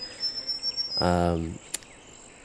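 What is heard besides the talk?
cicadas and insects buzzing in a GTA video game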